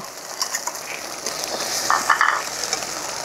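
Onion and coconut paste frying in a pan for stuffed pointed gourd, with constant sizzling, light utensil scrapes and a few clinks of the pan while being stirred.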